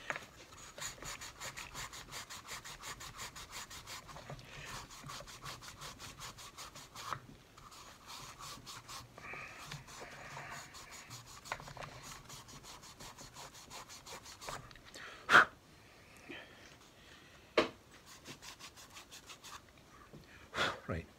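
Scotch-Brite pad scrubbing a stuck brake piston from a Honda CB 750, a fast rhythmic rasping scrub that continues for most of the time, with a few louder knocks and a pause near the end.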